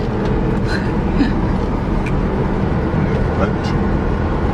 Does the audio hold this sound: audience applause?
no